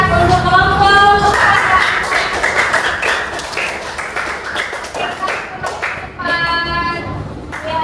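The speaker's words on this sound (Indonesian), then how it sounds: "silakan tepuk tangan untuk kelompok" A classroom of students claps for a presenting group during a lesson, sharp close hand claps and taps mixed with voices and shuffling, with brief overlapping talk at the start and near the end.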